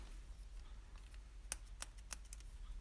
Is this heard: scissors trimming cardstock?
yes